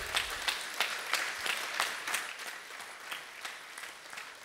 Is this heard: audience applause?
yes